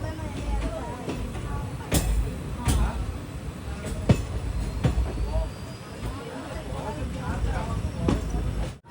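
A Madurai passenger train rolls into Manamadurai Junction on a curved approach, with a loud steady rumble and sharp rhythmic clacks of wheels over rail joints.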